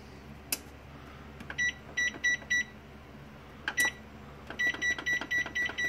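Electronic kitchen timer being set, giving short clusters of bright beeps in quick succession, with a few soft clicks and handling knocks between them, fairly close and with no talking.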